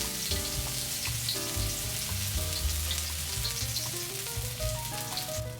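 Grated ginger and garlic fry in hot cooking oil with a dense, continuous sizzle, kept moving in the pan, while melodic background music plays throughout.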